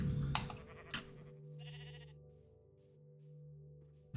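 Minecraft sheep bleat in short wavering calls, one clear bleat in the middle, close and alone over quiet game background.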